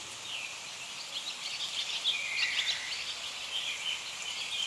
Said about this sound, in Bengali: পশু পাখির আওয়াজ।